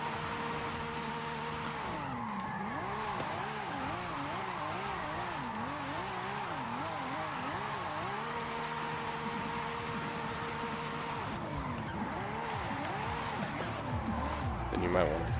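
A car drifts in Forza Horizon 5, its engine note rising and falling in wavering sweeps as the revs change, under continuous tire noise, with a brief dip where gears shift.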